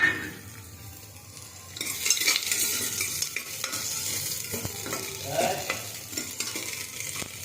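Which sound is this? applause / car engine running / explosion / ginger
ginger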